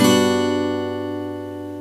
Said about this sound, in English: Which leads to a so-called major 7th chord.